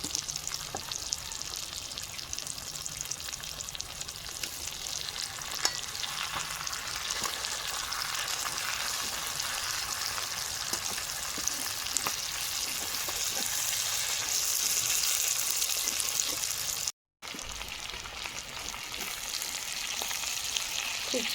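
Fish coated in spices fries in a pan with a steady, soft crackling sizzle that runs on with no voices and breaks off for a moment near the end.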